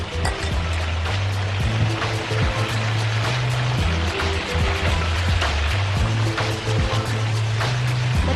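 Chili and onion spice paste fries in oil until the oil separates, a bubbly, spattering sizzle with a low rumbling hum beneath, steady and close throughout with no speech.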